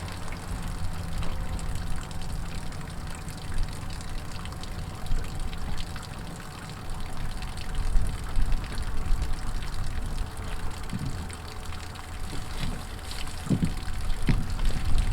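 Water pours and trickles steadily from a camper's hot water tank being drained, a continuous splashing flow with occasional knocks and clatter nearby.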